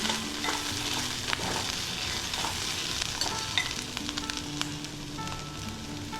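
Sliced onions fry in a pan for a fenugreek and green pea curry, a steady close sizzle with occasional stirring scrapes and clinks, with no talk.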